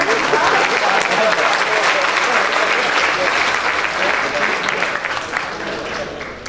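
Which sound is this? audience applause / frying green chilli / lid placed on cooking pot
audience applause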